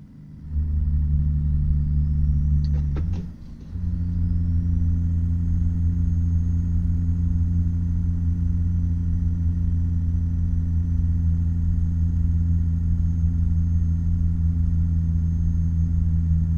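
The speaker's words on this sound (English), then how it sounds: "Engine's kind of got a weird sound to it." A heavy truck engine, a Detroit Diesel DD 379, drones steadily for a long stretch in the game American Truck Simulator, with a faint high whine and a brief clunk early on.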